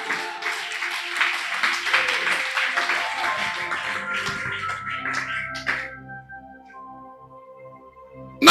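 Church congregation clapping hands together during a sermon, a dense, steady wash of applause that carries loudly for about six seconds before thinning out into scattered claps and quieter room sound.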